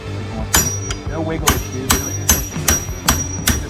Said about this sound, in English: hitting something on the axle with a punch and a hammer